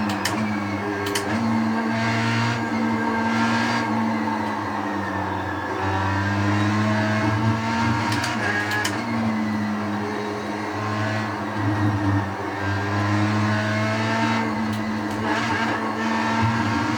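A race car engine in a sim racing game drones loudly and continuously through a lap, its pitch rising and falling with repeated revving, gear changes and easing off, with no talking.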